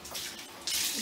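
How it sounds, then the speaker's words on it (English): Water from a tap runs into a bathtub with a close, steady rushing hiss, growing louder partway through as the flow increases. "get some water in the bathtub"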